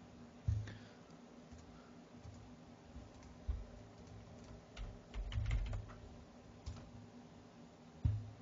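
Password being typed on a computer keyboard during a Napoleonic Wars siege-map live stream: scattered, faint clicks and a few louder key thumps over a steady low background hum, no talking.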